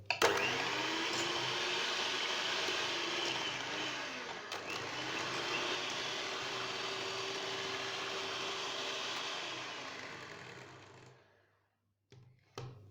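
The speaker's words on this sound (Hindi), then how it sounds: "पाँच मिनट हो गए हैं क्रीम को बीट करते हुए।" An electric hand beater whips cream steadily for about eleven seconds, a loud continuous motor whine with no talk, then cuts off, followed by a couple of brief clicks.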